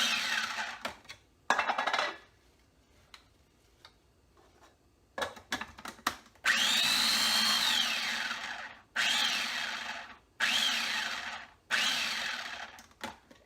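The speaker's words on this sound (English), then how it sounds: "Put it in my little food processor." A small food processor chops basil for vegan pesto in several loud bursts of whirring, separated by short pauses and clicks, close by.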